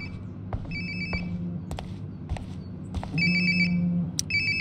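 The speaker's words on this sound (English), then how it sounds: "Sounds like my phone is definitely nearby." A phone ringtone plays in Life is Strange Before the Storm: a repeating electronic melody of bright beeping tones sounding in clear bursts over a low ambient game hum, with no talking.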